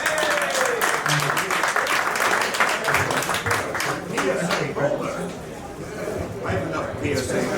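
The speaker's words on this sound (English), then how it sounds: "another round of applause for Greg, guys" A crowd claps in dense, steady applause that gradually thins toward the end, with some voices mixed in.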